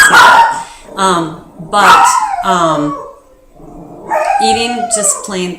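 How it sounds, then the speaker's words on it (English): A pet dog barks and yips loudly and close by, in repeated bursts mixed with a person talking over it. "That's my dog."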